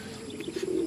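Pigeons cooing close by, a soft rising coo over a low murmur of birds, loaded on a truck.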